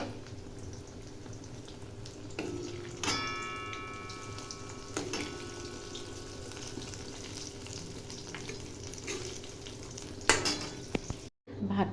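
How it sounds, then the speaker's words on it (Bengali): Potatoes fry in a pan in a home kitchen, with a soft, steady sizzle running underneath, sharp clinks and stirring knocks breaking in every few seconds, and a short dropout just before the end. "এদিকে আলু ভাজা বসালাম।"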